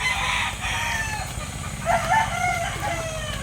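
Backyard fighting roosters kept as gamecocks crow loudly and close by, with a clear cock-a-doodle-doo rising midway through and softer clucks around it.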